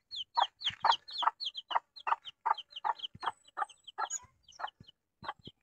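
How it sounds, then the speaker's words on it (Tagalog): Wild chicken chicks clucking and peeping in a rapid, uneven series of short calls, close and fairly loud, with no voices. "Yan yung anak ng wild chicken mga idol."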